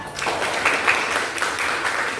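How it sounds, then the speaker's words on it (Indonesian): A classroom breaks into steady group clapping for a student's correct answer to a history question. The applause is moderately loud and sustained throughout, with no voices on top. "Beri tepuk tangan untuk Junita."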